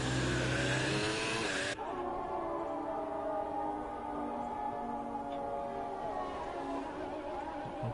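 An F2 car in the F1 2018 racing game at Bahrain screams at high revs from an external view, the loud bright engine tone cutting off sharply after a couple of seconds into a duller, steady droning engine sound.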